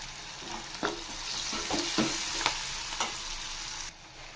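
Onions fry in a pan until golden, giving a steady close sizzle with several sharp stirring scrapes spread across the clip and no voices.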